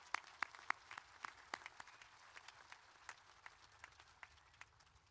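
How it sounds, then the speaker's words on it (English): Applause at a college commencement ceremony, faint and distant with scattered sharp individual claps standing out over a thin crowd wash, the clapping slowly thinning out. "Let's give them a big round of applause."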